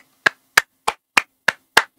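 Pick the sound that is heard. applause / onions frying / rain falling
applause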